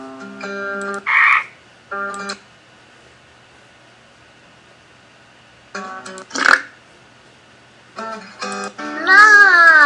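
Cartoonish frog croaks from a children's iPhone song app about animals, arriving in short bursts between tonal musical notes, with a longer croaking passage near the end; clear and close, no talking over them.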